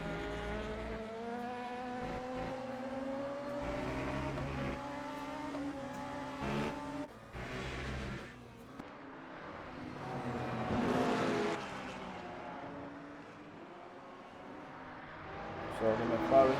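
GT3 race cars, a McLaren, Porsche and BMW, racing at Circuit of the Americas in Le Mans Ultimate, engines droning and rising in pitch as they pass, with commentary talking over the sustained motor noise.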